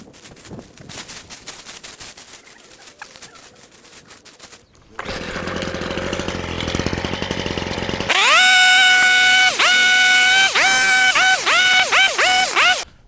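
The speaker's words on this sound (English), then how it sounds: "So I've gotten through most of the smaller limbs that the hedge trimmer can handle." A powered hedge trimmer cuts through shrub limbs encroaching over a privacy fence, a loud close buzzing motor that starts in bursts, then roars steadily with its pitch dipping and recovering as it bites into branches.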